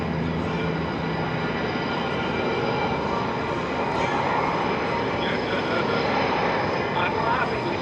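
Aerobatic airplane engine during maneuvers at the 2025 Air Power Over Hampton Roads airshow, a continuous broad droning roar held steady at moderate distance for the whole stretch.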